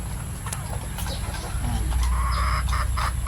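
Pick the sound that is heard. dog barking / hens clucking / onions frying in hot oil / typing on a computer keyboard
hens clucking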